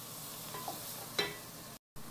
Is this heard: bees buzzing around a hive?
no